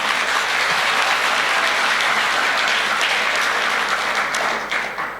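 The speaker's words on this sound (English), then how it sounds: "I thought we were going to clap." Audience at a school graduation ceremony breaks into sustained, dense applause that holds steady and loud throughout, tapering slightly at the end.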